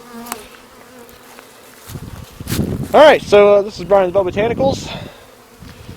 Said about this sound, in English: there's a bee right on my friggin' glove. Come on bee, buzz away.